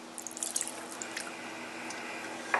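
Jameson whiskey poured into mug cake batter with sour cream, a faint trickle with small drips and splashes, close and quiet, no speech.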